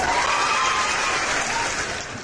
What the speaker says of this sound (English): Can you hear the clap?